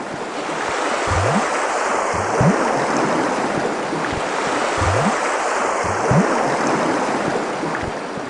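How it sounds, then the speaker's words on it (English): Water gushes from a broken water main on Arthur Wint Drive, a steady, loud, broadband rushing roar that continues without pause, with a few low thumps beneath it. "Moments after, a huge water spout gushed meters into the air."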